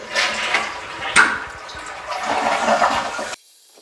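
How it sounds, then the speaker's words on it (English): A newly installed toilet flushes close by, a rushing gurgle of water that surges and then settles into a steady refilling wash before cutting off. No one speaks. "I'm going to flush it one more time so we can see it again."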